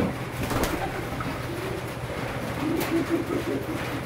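A young racing pigeon of a named breeder's line coos softly in a loft, low murmuring calls repeating under faint background noise, with no talk.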